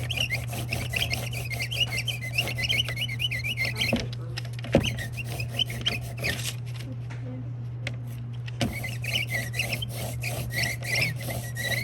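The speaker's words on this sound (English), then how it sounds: "There's gonna be lots of squeaking going on in here." An ink brayer rolls back and forth over an inking surface for botanical prints, producing repeated rhythmic squeaks and rubbing strokes close by, with a steady low hum and a quieter pause midway.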